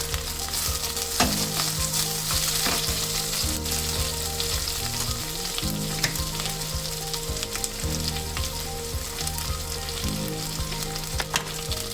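A sprig of curry leaves sizzles in hot oil alongside garlic, making a loud, crackling, unbroken fry with occasional sharp pops and spits and no one speaking.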